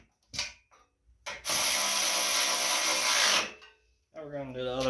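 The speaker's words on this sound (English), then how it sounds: "And tighten everything down." Power tool driving bolts tight on the mower deck of a Cub Cadet lawn mower: a few clanks, then a loud sustained impact-driver whir for about two seconds, followed by a brief voice.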